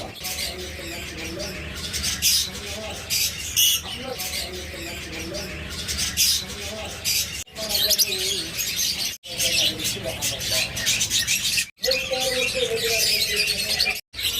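A farm's caged lovebirds, forpus, budgerigars, cockatiels and finches chatter and chirp in a dense, busy chorus with sharp squawks, close and continuous, broken by brief dropouts.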